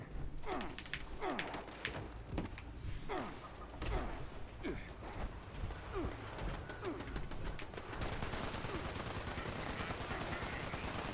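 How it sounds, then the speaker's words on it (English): An automatic turret opens fire in the Fallout 76 online survival game, a series of mechanical clanking shots in uneven bursts over steady background game noise, fairly faint overall. "we're going to go ahead and turn on the turret"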